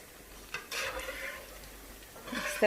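Pakoras stirred in hot oil over a medium flame, with soft scraping and stirring strokes over a low sizzle, close and fairly quiet, with a brief clink near the end.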